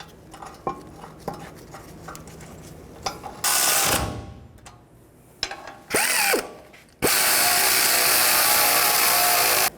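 Ratchet clicks under short bursts as the brake caliper bracket bolts are tightened on a 2011-2016 Ford F350 Super Duty front brake, with rapid mechanical ticking and a few louder sustained noisy stretches, close and without speech.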